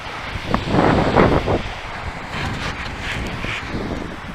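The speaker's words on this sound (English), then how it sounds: "Nah, it's too windy, I'm afraid." Strong wind blowing hard across an outdoor microphone where a remote-control helicopter is being flown, a loud continuous rushing roar with gusty surges and no clear talking.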